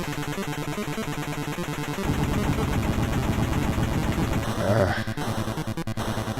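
In the NES game The Punisher, rapid chiptune gunfire rattles steadily against a boss over the looping 8-bit music, a dense, continuous barrage with harsher bursts near the end.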